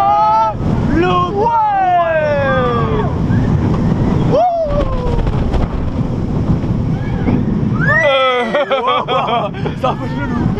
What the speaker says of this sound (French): Bah c'est le vent ça.